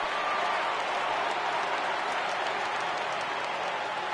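A ballpark crowd in the video game MLB The Show 18 cheers and applauds in a steady, dense wash of noise that holds at an even level throughout.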